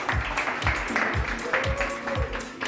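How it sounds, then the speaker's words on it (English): Audience applause at a startup demo day, a dense, steady wash of clapping that fills the room and carries on evenly throughout, with thumping underneath. "a big round of applause for Ignacio from Tienda House"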